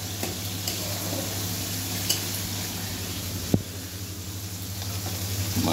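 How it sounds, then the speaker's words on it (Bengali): Fish frying in a pan at home, a soft steady sizzle running throughout with a faint low hum beneath and one brief sharp clink near the middle. "আর এদিকে মাছ ভাজা চলছে।"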